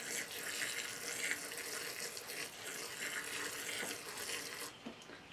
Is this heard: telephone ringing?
no